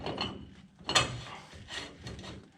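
A socket ratchet tightens wheel hub nuts with short bursts of clicking mechanical ratcheting, close and fairly quiet, without talk.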